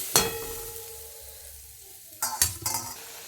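Water poured into a pan of fish curry with papaya and potato sets off a sharp sizzle and hiss, followed after a quiet simmer by a second burst of sizzling and clattering stirring.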